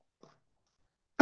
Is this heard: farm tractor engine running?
no